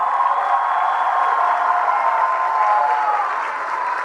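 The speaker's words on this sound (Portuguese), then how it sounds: "a salva de palmas a Conceição de Maria Costa Muniz" Audience applause at a Universidade Federal Fluminense campus ceremony, a steady, dense clapping from a crowd held evenly throughout with no break.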